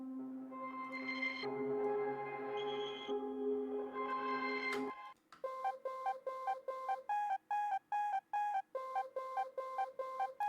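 A synth texture from the Grave plugin in a beat: sustained harmonic tones give way to a fast, evenly pulsing train of bright, bell-like blips, alone and clear.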